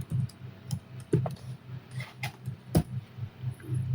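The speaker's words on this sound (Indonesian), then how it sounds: "Kita masuk ke CLI, bentar aja, kita ketik saja" Keys tapped on a computer keyboard while entering router commands at a command-line interface, a steady run of light close clicks with brief pauses, no voices.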